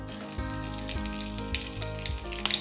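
Green chilies frying in mustard oil after black cumin seeds and asafoetida, for a watermelon rind curry: a steady close sizzle with a few crackles and pops, under continuous tonal background music.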